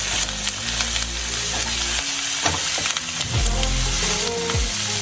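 Coconut, tamarind, mint, coriander and curry leaves sauté over a medium flame in a pan, making a loud, close, continuous sizzle with a low rumble and scraping stirs, without any talk.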